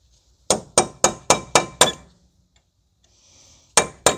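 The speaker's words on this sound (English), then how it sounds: "So we will unstake the axle nut first." Six sharp hammer strikes in quick, even succession, then a pause with a faint scrape and two more blows, as a hammer knocks the staked axle nut loose on a 2011 Kia Forte 5 SX 2.4 during lower control arm replacement.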